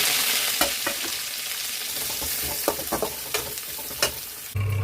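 Chopped onion and green chili sizzle steadily in a hot pan with oil and cumin, a continuous frying hiss broken by occasional utensil scrapes and stirs, close and without talk.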